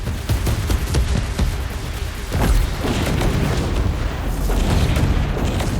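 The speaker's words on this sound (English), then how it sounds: "I think those missiles really tear up those other guys." Missile explosions in a video game rumble through a dense, loud barrage of booms and pops, repeated blasts overlapping across the whole stretch with heavy low-end rumble.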